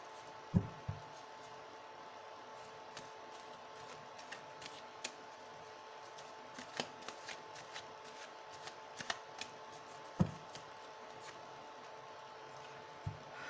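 Tarot cards are shuffled by hand in soft, intermittent riffles and light snaps, close and quiet in an otherwise hushed room.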